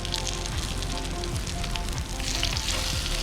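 Fishcakes sizzle and crackle steadily in a hot pan, a dense close-up frying hiss with small pops throughout.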